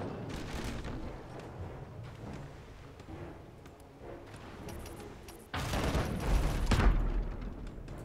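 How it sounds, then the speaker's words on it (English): Cannons fire in the naval battle game Abandon Ship, a rumbling run of heavy booms and crackling blasts with a louder cluster of explosions in the second half, no voices. "Fire the cannons!"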